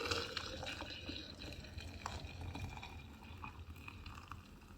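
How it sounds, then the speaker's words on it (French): Hot water poured over a spoonful of sugar for an infusion makes a faint, steady watery trickle and splash that lasts several seconds, heard quietly and without talking. "Et puis ben l'eau chaude. Hop, et donc du coup je rajoute l'eau."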